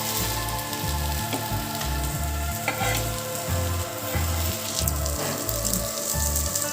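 Khasla bora fritters frying in a pan of oil give off a continuous close sizzle and spitting crackle, punctuated by a regular series of dull knocks as they are stirred and lifted, no speech present.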